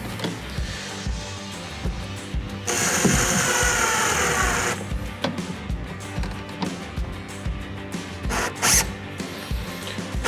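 Power driver fastening screws into a kayak hatch on a Hobie Mirage Passport 12, giving short buzzing whirs, one longer run in the middle and quick bursts later, close and loud with no talking.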